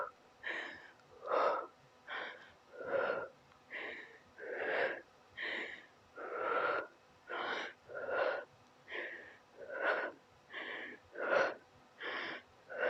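Heavy, rhythmic exhalations during a HIIT floor exercise at home, roughly a dozen strained, wheezy breaths at a steady pace, close and moderately loud, with no talk.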